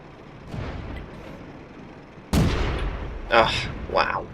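A heavy tank cannon fires in a World of Tanks battle, one sudden loud boom with a rumbling tail, followed by a couple of fainter distant blasts.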